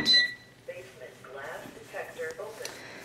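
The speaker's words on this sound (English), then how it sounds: "That would be my alarm system letting me know that he's making a lot of noise down in the basement." Two short, high electronic beeps from a home alarm system at the very start, followed by a person talking.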